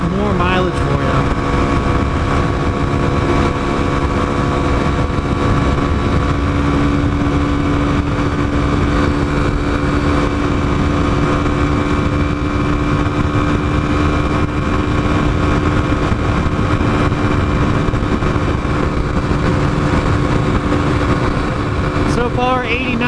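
A 2021 Kawasaki KLX300 motorcycle engine held at full throttle at top speed, giving a loud, steady, high-revving drone with strong wind rush that continues unbroken from start to end.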